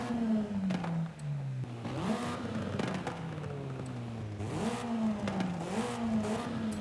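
A race car with 316 horsepower and 1,285 kg in an open racing video game, its engine revving up and down repeatedly through gear changes, steady and close with no talk.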